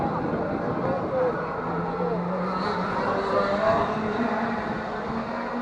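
Historic gearbox racing karts lap a circuit at a kart club revival meeting, their engines buzzing and whining as they pass at mid distance in an overlapping, rising and falling drone.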